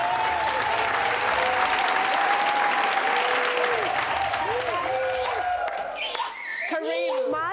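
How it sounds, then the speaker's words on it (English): Loud, sustained audience applause welcoming a contestant's family on a TV challenge show, with cheering and voices over the clapping, thinning near the end as people speak. "Welcome Shiro's family with a round of applause"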